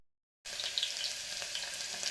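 Chopped onions fry in a hot pressure cooker pan, giving a steady bright sizzle that starts abruptly after a short silence and crackles on close and clear with no voices.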